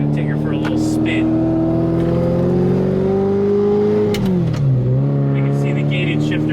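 A Ferrari 348 Spider's engine climbs steadily in pitch as the car pulls away, then dips sharply at a gear change before settling into a loud, close, continuous drone with faint clanks on top.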